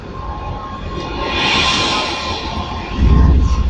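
A tram rolls past on a Rotterdam street, a broad rumbling rush that swells toward the middle, then gives way to a louder low thumping rattle near the end.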